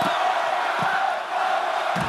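Roaring arena crowd cheers in the WWE 2K25 wrestling video game during a Roman Reigns versus Brock Lesnar match, a loud, steady wall of whooping and yelling that holds for about two seconds, with a brief dip partway through.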